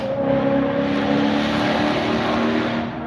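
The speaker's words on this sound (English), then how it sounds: "Here comes some more loud cars." Loud cars roar past near a Philadelphia flathead fishing spot, a continuous engine rumble and tyre hiss that stays close and strong throughout, with no other sounds standing out.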